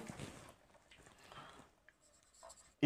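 Pen or marker writing out a geometry proof on Thales' theorem with triangle area ratios, a faint scratchy stroke sound in short bursts with quiet gaps between them.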